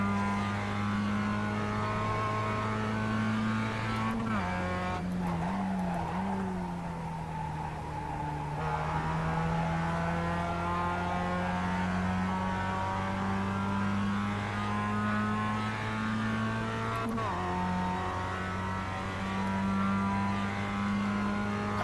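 A Mazda MX5 engine in a racing game holds a steady drone, with gear-change dips and rising revs several times, heard alone and close throughout.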